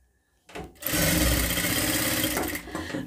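A sewing machine stitching blouse fabric starts up after a brief quiet moment, then runs in a loud, fast, continuous whir close by for a few seconds.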